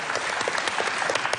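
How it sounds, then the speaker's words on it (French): A studio audience applauds on a French TV quiz show set, a steady dense wash of clapping that fills the whole moment without pause, with no voices breaking through. "Applaudissez sans vous arrêter."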